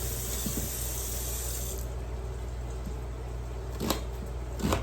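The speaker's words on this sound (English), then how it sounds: "Washing up my onions." Onions washed under a running kitchen tap, a steady close stream of water from the faucet throughout, with brief splashes and handling as the onions pass under the flow, and no speech.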